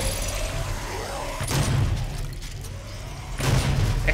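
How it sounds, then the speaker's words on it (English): An explosion in the video game DOOM erupts as a broad booming burst, followed a couple of seconds later by a second blast over a rumbling, mechanical game backdrop. "Explosion."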